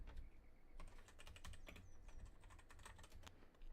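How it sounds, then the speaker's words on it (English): Rapid clicking keystrokes on a computer keyboard, close and quiet, with continuous bursts of typing and no pauses. "let me type that for everybody"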